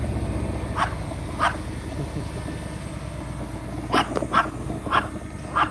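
A dog barks at a drone outdoors under a cloudy sky, with two single barks followed by a burst of four quick barks, all fairly distant over a steady low engine-like drone hum.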